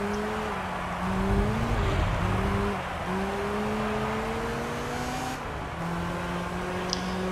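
In Gran Turismo 3, a 200 hp Honda VTEC front-wheel-drive race car climbs through its gears. The engine screams high with rising whine sweeps and brief drops at each shift, while competing cars buzz faintly behind it.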